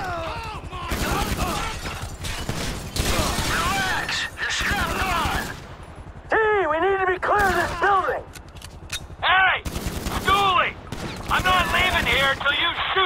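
Sustained gunfire from shooters in GTA 5, rapid bursts and volleys mixed with loud explosions-like cracks, heard under frequent shouted dialogue between characters throughout.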